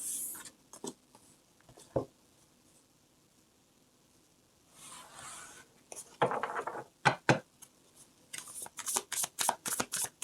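Tarot cards are shuffled and drawn in a quiet room: scattered soft slides at first, then a run of crisp, closely spaced riffling snaps toward the end, all close and fairly loud with no voices.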